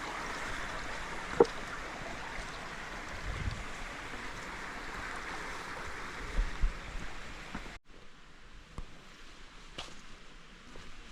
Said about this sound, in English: you got this cool little creek crossing, which is neat